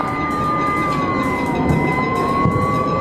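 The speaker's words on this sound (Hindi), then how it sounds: "देखिए किस तरीके से सायरन बज रहा है वो आप यहां पर महसूस कर सकते हैं" Sirens wail continuously in Pakistan-occupied Kashmir, a loud steady rising-and-falling tone with layered pitches carrying over a dense background hum, heard without talk.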